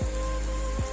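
Rain falls during a mountain hike on Bistricioru Peak in Romania's Călimani Mountains, a steady, dense hiss close around the listener with a low rumble underneath and no voices.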